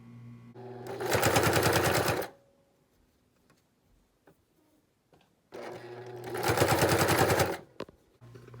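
Sewing machine stitching the fabric ears of a stuffed animal, running in two rapid loud whirring bursts of about two seconds each, separated by a quiet pause with small handling clicks.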